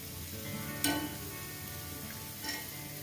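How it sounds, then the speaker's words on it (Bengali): Kheer pantua, a Bengali sweet of thickened milk, frying over lowered heat in very hot oil, giving a steady close sizzle with two brief sharper crackles and no voices. "যেহেতু তেলটা এখনো গরম আছে খুব, তাই জন্য আমি গ্যাসটা কমিয়েই এটা ভাজছি"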